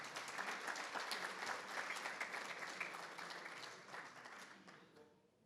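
Dinner guests applaud the staff at the Country Club of Missouri during a society dinner, a dense, steady round of clapping from a full room that holds strong and then gradually fades out near the end.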